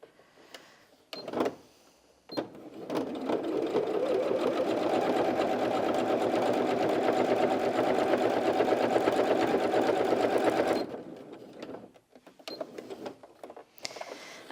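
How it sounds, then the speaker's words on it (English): A Janome 360DC sewing machine stitching fabric in one long, even run of about eight seconds, with brief handling sounds before and after. "The machine was feeding it through all on its own."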